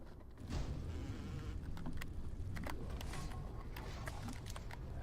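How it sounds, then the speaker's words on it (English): Bees buzz in the game BioShock, a faint, continuous insect drone with scattered small clicks and rattles over it, quiet and without speech. "The bees."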